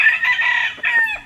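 A Kelso gamefowl rooster, a yellow-legged cock, crows once at close range in a single sustained cock-a-doodle-doo that breaks briefly near the end, heard alone without talk.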